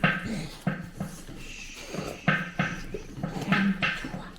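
Excited dog whimpering and yipping in short, nasal bursts close to the microphone, with panting and small movements between the cries.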